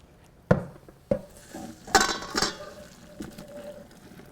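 Boiled dumplings are strained in a pot for Tobago crab and dumplings, with sharp metal clanks, a clatter of pot and lid, and splashing water in a close, busy kitchen scene.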